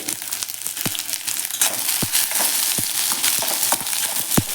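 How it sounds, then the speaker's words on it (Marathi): Chopped onion fries in a little oil in a kadai with a steady, close sizzle, and a spatula scrapes and clicks against the metal every second or so. "आपला कांदा आपण छान असा तांबूस होईपर्यंत भाजून घ्यायचा आहे"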